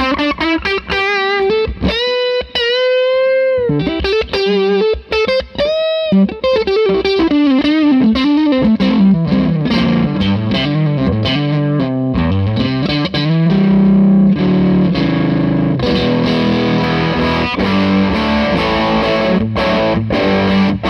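Electric guitar run through a Fuzzrocious Feed Me pedal stacked with a Shipwreck distortion, a loud, saturated riff of bending single notes moving into dense, thick chords that drive on steadily without pause.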